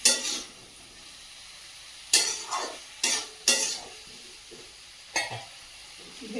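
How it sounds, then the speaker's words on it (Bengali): Fish being stir-fried in a pan with fish roe, a spatula scraping and tossing in a handful of sharp bursts spaced a second or two apart over a soft steady sizzle, close up, with no talk. "তো মাছখানে ভালো কষিয়ে নিই।"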